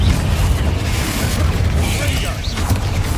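A booming Confringo spell blast from Hogwarts Legacy bursts out loud and close, rumbling over a spell-casting fight with a voice nearby.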